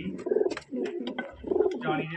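Domestic fancy pigeons, including Teddy birds, coo close by in repeated throaty, bubbling phrases, one rolling call following another with brief pauses between.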